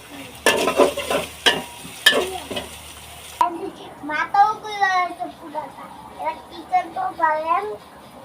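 Finger-shaped snacks frying in hot oil, with sharp clattering stirring and sizzling in the first few seconds, then a voice and other talk taking over while the frying continues faintly beneath.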